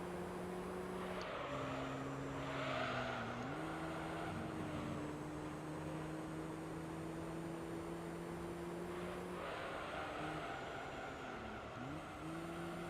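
A Spoon-tuned Honda Type R screams at very high revs in the racing game Gran Turismo 3, a sustained shrill engine drone that dips briefly on gear changes and lifts again, loud and alone throughout.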